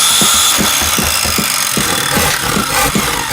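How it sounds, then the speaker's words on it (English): Soundboard power tool effect: a loud, steady motorized whir with rapid rhythmic pulses, like a saw or drill biting into wood, running continuously and close up with no voices. "And then we got the power tools."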